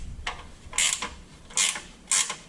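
Ratchet fitted with a 12 mm socket cinches down fender flare bolts on a Jeep JK, giving a few short clicking, creaking bursts in an uneven rhythm, close and fairly loud.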